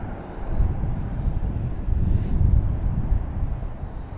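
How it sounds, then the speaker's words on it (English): An airliner arriving at DFW Airport from Los Angeles, heard from a hotel rooftop as a steady low rumbling roar of jet engines, fairly loud and sustained, mixed with wind noise. "here's the flight we were talking about coming in from Los Angeles"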